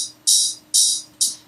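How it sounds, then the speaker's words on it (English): Three bursts of an open hi-hat sample, bright and airy, each sustaining about a third of a second before the next hit in a loose shuffle pattern, sliced in Maschine. "which is just this open hat"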